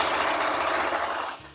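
A sewing machine runs a gathering row of stitches through fabric, with a steady, close mechanical whirring chatter that slows and stops near the end.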